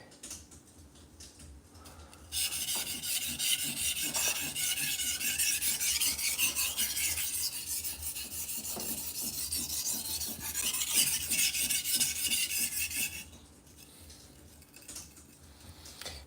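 A knife blade scraped in long, steady strokes across a sharpening stone while raising a burr on the first side, a continuous close rasping that runs for about eleven seconds before tapering off into quieter handling.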